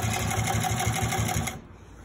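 A Consew 369RB-2 high post sewing machine with split needle bar, walking foot and needle feed runs steadily with a rapid rhythmic stitching clatter, close and loud, then stops abruptly near the end leaving a quiet hum.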